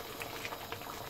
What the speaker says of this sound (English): So that's been sweating down with water for about 10 minutes.